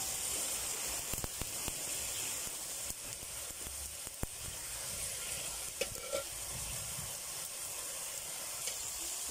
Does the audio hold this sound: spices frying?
yes